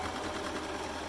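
Sewing machine stitching forward and back on a nursing hat, a steady, even mechanical whir that runs unbroken through the whole short stretch at moderate loudness.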